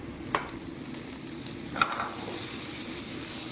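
Tomatoes sizzling in a hot pan with chili and onion, a soft continuous hiss broken by two short clicks of a utensil.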